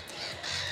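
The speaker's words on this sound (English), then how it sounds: "you might hear that there are lots of birds in the background" Crows caw faintly in the distance over a steady outdoor background hum, with no one speaking.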